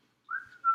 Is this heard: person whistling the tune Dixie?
yes